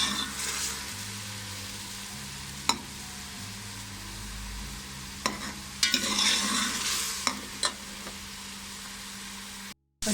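Ginger garlic paste frying with onions in a pan, a soft continuous sizzle with a few scraping stirs and clinks of the spoon, fairly quiet with no talking.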